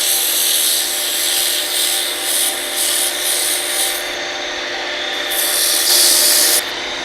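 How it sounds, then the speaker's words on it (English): Close, loud strip of sandpaper rubbing against a wooden lamp shaft spinning on a lathe, a hissing scratch that swells and eases in repeated strokes. "You can sand with a strip of paper just like this"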